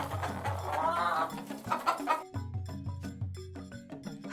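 A farm hen named Harmony clucks softly while scratching for food, with several short clucks in quick succession over a low rumbling background, close and moderately loud.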